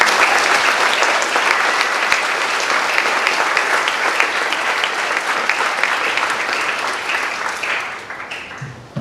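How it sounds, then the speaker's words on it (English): A crowd at a fifth grade moving-up ceremony gives teachers and support staff a sustained round of applause, loud and steady before fading in the last second. "Please join me in giving your teachers and support staff a big round of applause."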